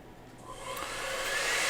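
A hair dryer blowing over a wet acrylic snow painting, a rising steady whoosh that builds in loudness over a couple of seconds, close and alone.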